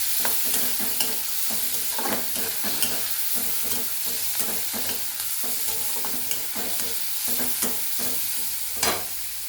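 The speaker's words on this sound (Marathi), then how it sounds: "एक चमचा हळद टाकून आणि थोडासा कडीपत्ता थोडंसं फ्राय करून घ्यायचं" Turmeric and curry leaves fry in hot oil for soybean bhurji: a continuous crackling sizzle up close, punctuated by regular utensil taps and stirring scrapes.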